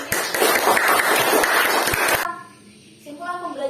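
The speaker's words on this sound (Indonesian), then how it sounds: "Beri tepuk tangan untuk teman-temannya." Classroom students clap together for their classmates, a lively burst of applause for about two seconds that stops abruptly, followed by a teacher's voice speaking.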